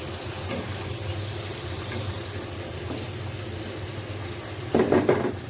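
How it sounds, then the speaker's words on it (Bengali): Prawns frying and being stirred with spices in a pan, a steady low sizzle throughout with a brief louder burst of scraping and spattering near the end; no talking. "এখন আমি চিংড়ি মাছগুলো দিয়ে দিব দিয়ে হালকা একটু এই মশলাটার সাথে এটাও কষিয়ে নেব"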